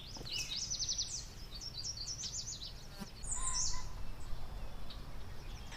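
A colorful bird sings in a cartoon setting, with a quick series of high chirps and trills. The calls come in two bursts over a steady low background hum.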